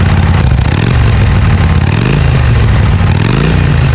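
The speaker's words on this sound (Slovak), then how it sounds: "vďaka čomu má motorka ešte väčší výkon a krásny klasický zvuk Harley" A Harley motorcycle engine runs loud and close with a deep, uneven, pulsing rumble. The throttle swells and settles in a loping rhythm, with mechanical clatter layered on top throughout.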